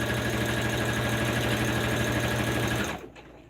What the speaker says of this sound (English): I am just top stitching the strap